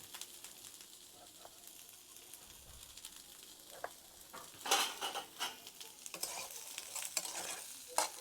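Onions with chili and tomato fry in a pan, a faint, steady sizzle under quiet scraping and stirring, with louder clattery stirring strokes and utensil knocks toward the end.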